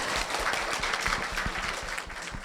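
An audience at an international economics and business conference claps in a steady, dense round of applause that holds throughout and begins to thin slightly at the end.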